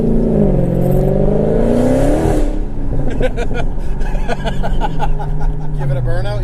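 A Dodge Hellcat's engine climbs in a rising rev from inside the cabin, strong and close, then settles into a steadier drone as passengers talk over it.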